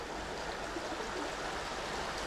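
A river flowing along the Camel Trail in Cornwall gives a steady, close rushing hiss of water that stays even and unbroken throughout, with no voices.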